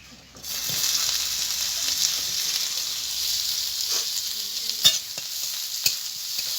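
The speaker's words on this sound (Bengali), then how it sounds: "একটু ভালো করে ভেজে নেব" Chopped onions frying with cumin seeds in hot oil make a steady, close sizzle and hiss, with a few sharp stirring clinks and scrapes.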